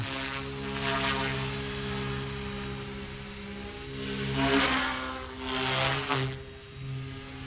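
An Align T-Rex 300X RC helicopter on its maiden flight hovers nearby with a steady high-pitched rotor whine and buzzing motor, swelling and easing slightly as it maneuvers.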